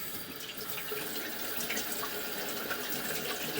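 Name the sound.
water running into a sewer line to rinse inspection camera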